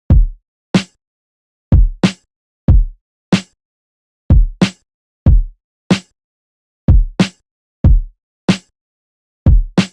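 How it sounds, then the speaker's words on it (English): A simple drum pattern of deep booming kicks alternating with sharp snappy snare hits, steady and loud with nothing else playing. "The kick and snare sound like this."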